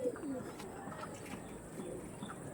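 Tournament-quality pigeons kept as a breeding pair in a loft coo softly and continuously at close range, with faint background noise and no clear talking.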